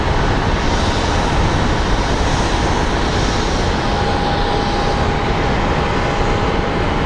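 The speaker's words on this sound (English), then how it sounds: "on the departure, we have an American Airlines A321 that is headed to Atlanta" American Airlines A321 airliner departing Phoenix Sky Harbor International Airport, a very loud, steady roar of jet engines at takeoff power, close by and continuous throughout, with no talk.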